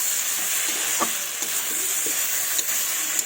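Fried potato and eggplant are stirred in hot oil, a steady sizzle with occasional soft scrapes and knocks of a spoon against the pan, close and continuous.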